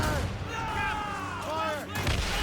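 Ship cannons boom in a naval battle in Assassin's Creed Rogue, a loud continuous roar of gunfire with shouting voices over it.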